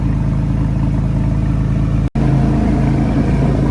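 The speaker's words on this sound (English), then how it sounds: "I'm gonna give y'all a little rev real quick" A Porsche 911 engine runs close and loud with a deep rumble, cutting out for a split second midway before resuming at a slightly higher, steadier note.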